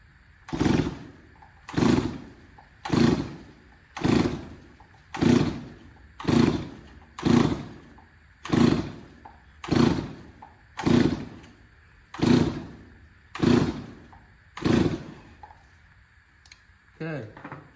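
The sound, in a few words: Stihl 024 Wood Boss chainsaw engine being started on choke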